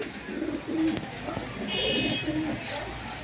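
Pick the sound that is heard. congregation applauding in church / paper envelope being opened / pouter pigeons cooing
pouter pigeons cooing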